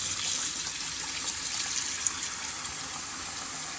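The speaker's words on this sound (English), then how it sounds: "Water is already flowing super fast." Water rushes quickly down a freshly unclogged bathroom sink drain, a steady bright gushing hiss from faucet flow draining freely, constant and close throughout.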